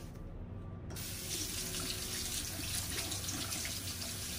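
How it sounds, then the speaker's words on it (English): Warm tap water gushes from a faucet into a sink for shaving, a steady, close splashing hiss that begins abruptly and runs continuously with no voices. "You just need to apply a little bit of warm water."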